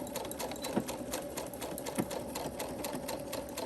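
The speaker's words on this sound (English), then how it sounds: "And we're going to stitch forward and reverse." A sewing machine stitches forward and then in reverse on a baby burp cloth, a steady rapid mechanical whir with regular needle ticks and two brief bumps as the direction changes, close and continuous with no talking.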